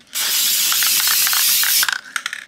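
A spray can hisses in one continuous loud burst of under two seconds, applying acrylic coating, workable fixative or lacquer to a laser engraving, followed by a few light rattles.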